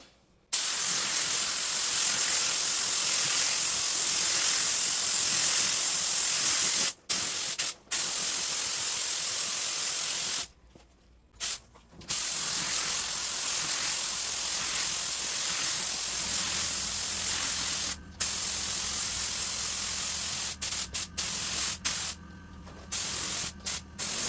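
Light coats of Honda Orange Blaze paint go on with a spray gun: long, steady, close-up hissing bursts broken by a few short pauses.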